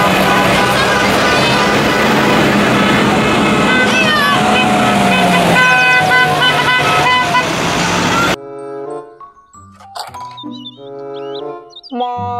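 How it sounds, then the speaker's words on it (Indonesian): A toy school bus sounds loud, buzzy electronic honks and tooting tones that run continuously and then switch to a short plinking tune from the toy, with no talking. "Mobil bus sekolah."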